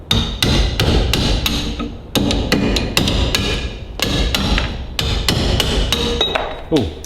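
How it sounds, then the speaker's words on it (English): A sharp chisel is hammered to strip a bonded brake lining from a Ferguson TEA20 tractor brake shoe: loud, close metallic blows in quick bursts of several strikes with brief pauses between, and no talking. "because this is bonded on, I've got to resort to a nice sharp chisel"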